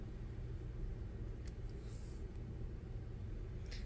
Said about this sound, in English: I hear some more thunder out in the distance